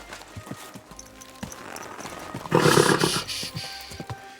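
Horse in the medieval video game Kingdom Come: Deliverance 2, hooves clopping in a steady rhythm followed by a loud, rough neigh, close and clear with no speech.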